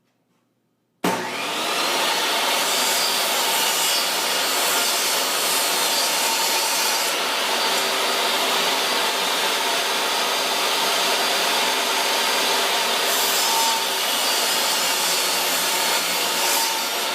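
A power saw cuts a wooden board for the sides of a birdhouse, starting abruptly and running as one loud, steady, continuous whine for the rest of the clip.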